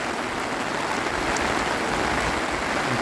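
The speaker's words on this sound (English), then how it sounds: "this is the heaviest rain I've seen in a long time" Heavy rain pours down in a dense, constant hiss during a September walk, drumming loudly close by on an umbrella overhead, with no talking.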